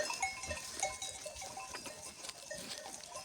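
Sheep wander through a garden on a mountain farm, heard as faint, distant bleats and soft rustling in the open air.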